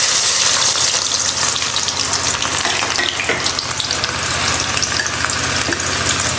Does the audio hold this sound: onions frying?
yes